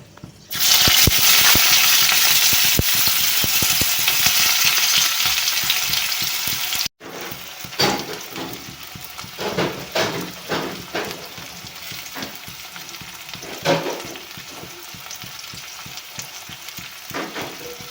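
Onion dropped into hot oil with dried red chillies hisses in a loud, dense burst of frying for several seconds, then settles into quieter sizzling with scattered stirring clicks and scrapes in a spinach curry pan.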